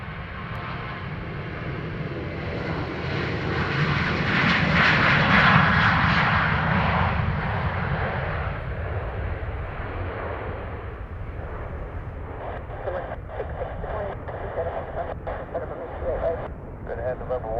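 A Ryanair airliner departs Dublin Airport, its jet engine roar swelling to a loud peak and then easing into a long, fading rumble, with voices and radio chatter over it.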